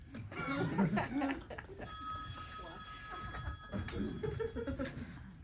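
A phone ringtone playing a song sounds for a couple of seconds as steady bright tones, mixed in with voices talking and a little laughter.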